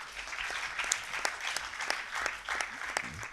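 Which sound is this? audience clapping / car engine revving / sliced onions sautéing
audience clapping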